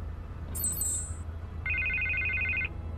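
A telephone rings in Batman The Telltale Series game: a brief high chirp followed by a sustained electronic warbling ring lasting about a second, clear over a low background hum, no talking.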